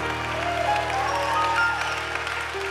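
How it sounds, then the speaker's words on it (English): Church congregation clapping during a worship service, a broad, steady wash of hands clapping over a sustained organ or keyboard chord, loud and continuous for under three seconds. "Come on, can we give Jesus a hand clap?"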